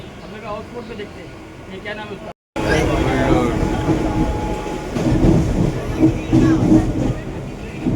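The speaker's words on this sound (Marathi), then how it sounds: "ठाण्याला उतरून लोकल ट्रेन पकडली आहे" A Mumbai local train runs on its rails at night after Mulund station, giving a loud continuous rumble and rattle from inside the carriage, with a brief break in sound and people talking over it.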